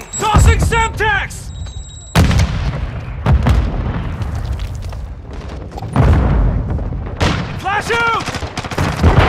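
Semtex grenades and gunfire go off in Call of Duty: Modern Warfare 2 multiplayer, several sharp, loud blasts and bursts with decaying rumbles, spaced a few seconds apart, mixed with shouted in-game voice callouts.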